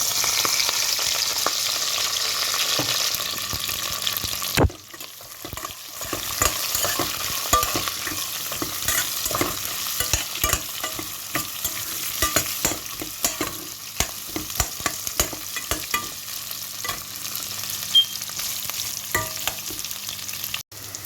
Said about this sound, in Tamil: எல்லாம் பொரிஞ்சிட்டு வெங்காயம் போட போகிறோம். வெங்காயம் கருவேப்பிலை.